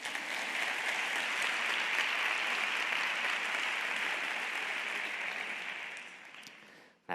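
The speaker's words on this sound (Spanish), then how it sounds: "me demostráis vuestro amor con un aplauso como este." Sustained audience applause fills a lecture hall during a talk, a dense steady wash of many hands clapping that holds loud and even for about six seconds before fading out near the end.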